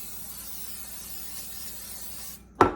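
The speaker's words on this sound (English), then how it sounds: "I'm going to spray a 9-inch pie dish." Cooking spray hisses in one steady, soft burst onto a 9-inch pie dish, close and alone, ending in silence and then a sharp clunk as the dish is set down.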